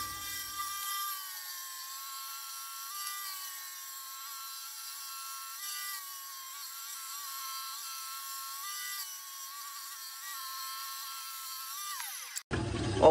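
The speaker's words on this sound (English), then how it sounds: "So I'm just going to rip them in the bandsaw." A bandsaw rips through pieces of wood for a doll's rocking crib, a steady mid-level whining drone with faint variations in pitch as the blade cuts, ending abruptly with a short burst of noise.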